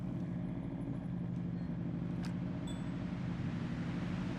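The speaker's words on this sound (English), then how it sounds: "Oh, the engine that car's a loud engine." A loud car engine in the police game Police Simulator, a steady low drone that holds at an even level throughout with no talk over it.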